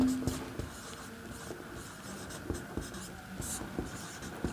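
A quadratic polynomial formula being written out by hand during a maths lesson: close, scratchy strokes of the writing tool in quick bursts with short taps and pauses between them, with no talking.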